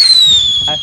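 Sivakasi skyshot firework bursting outdoors, a loud whistling rise and crackle over about a second with a short burst near the end, people talking in the background.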